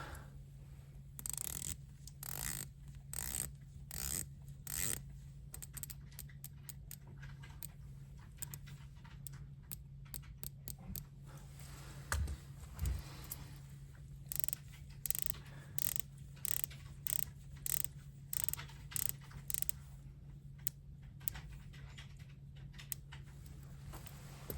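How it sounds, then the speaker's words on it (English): Rotating bezels on an Omega Planet Ocean 39.5mm and a Tudor Black Bay 58 give quiet, close ratcheting clicks in short irregular bursts, separated by pauses, with no voices. "let me real quick hit the bezel action"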